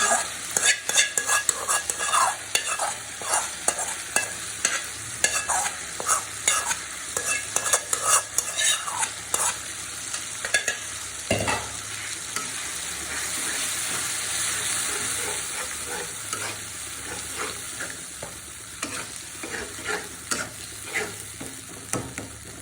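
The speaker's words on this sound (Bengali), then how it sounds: "আমি মশলাটাকে একটু সময় নিয়ে ভালো করে কষিয়ে নিই।" Spice paste frying in oil with boiled tomato for a spiced tilapia curry, stirred steadily: a constant close sizzle under repeated scraping strokes, with a brief lull midway before the stirring resumes.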